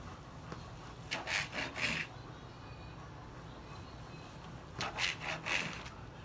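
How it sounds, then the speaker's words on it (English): Knife sawing through smoked brisket in two bursts of about three back-and-forth rasping strokes each, close and moderately loud, separated by a quiet pause. "I think for now, we'll just cut some slices here."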